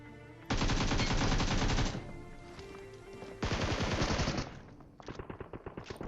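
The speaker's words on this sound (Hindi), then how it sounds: "जहाँ जहाँ से फायरिंग आ रही थी" Loud bursts of automatic gunfire in a mobile battle royale game: one long sustained volley, a pause, then a second long volley and a shorter string of separate shots at the end.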